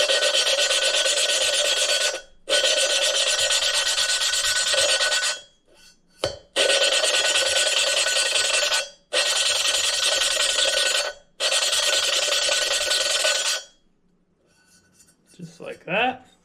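Valve lapping on an engine valve for a 1000 hp LS engine build, using a suction-cup tool: loud, harsh grinding rasps in repeated long strokes broken by short pauses, fading out near the end.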